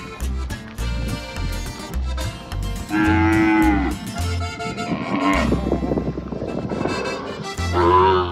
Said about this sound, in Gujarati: આ બધા વાછડા હે. હવે આપણે ગાયું જોવા જ આવી.